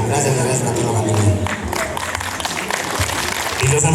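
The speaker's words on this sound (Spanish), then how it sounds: "Y los aplausos para el señor padrino" Wedding guests applaud together in a steady wash of clapping, with crowd murmur and voices mixed in throughout.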